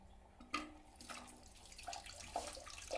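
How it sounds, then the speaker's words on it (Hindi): A toilet jet spray on a newly installed commode is switched on, releasing a faint, steady hiss of spraying water with splashes that rise and fall in spurts. "देखिए यहाँ से जेट को मैं ऑन करता हूँ"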